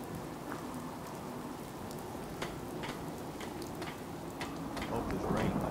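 Steady rain falls in the video game Fallout 4, a soft, even hiss with occasional light ticking drops throughout, quietly growing a little louder toward the end.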